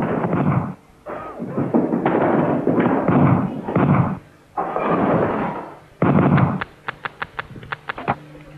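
Pistol shots from a 1990 Dendy 8-bit console game. Harsh, band-limited noise bursts are followed by a quick series of sharp, evenly spaced pops, loud and alone.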